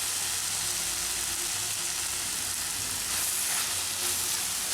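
Leeks and potatoes sizzle steadily in hot oil in a pan, with a continuous close frying hiss and faint scraping as they are stirred, and no talking.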